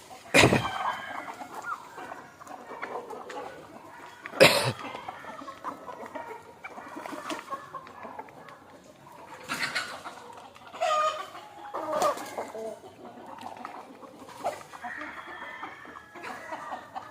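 Native village chickens cluck on and off outdoors, with sharp loud bursts near the start and middle and a rooster-like call among softer clucking.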